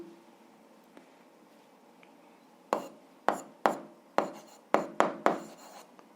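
Pen or pencil scratching across paper while a physics exercise is worked out, heard as a run of about seven short strokes in quick succession with quiet pauses between them, close and fairly faint.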